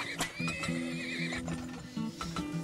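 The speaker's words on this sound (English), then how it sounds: "Let's get a couple more horses out." Video game horses whinny and neigh in several drawn-out, wavering calls over a steady clatter of hooves, loud and close with no talk.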